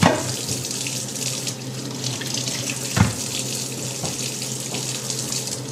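Tap water runs steadily from a kitchen faucet over potatoes being wet before baking, a continuous close splashing stream with a brief louder splash midway, no voices.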